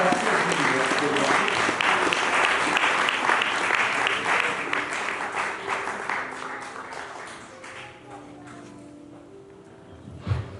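A church congregation applauds and acclaims the Lord during a sermon service: loud, dense clapping with scattered voices, thinning out and fading toward the end.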